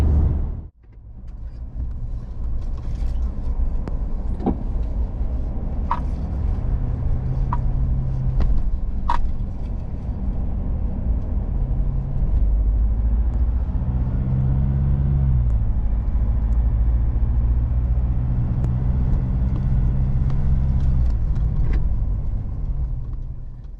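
A 4WD vehicle drives solo through the Murchison outback, its engine a steady low rumble that runs continuously for the whole stretch, with faint rattles and occasional small knocks over the road.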